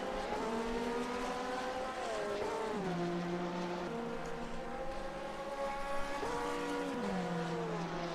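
GT3 race cars in a sim racing game at Road Atlanta scream past, engines rising and dropping through gear shifts in a steady, loud whine with no talk.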